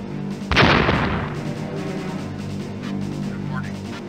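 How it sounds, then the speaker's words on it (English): A missile launches in the real-time strategy video game Dune 2000, one sudden loud blast followed by a broad roaring whoosh that trails off into a steady hum of game ambience. "Missile launch detected"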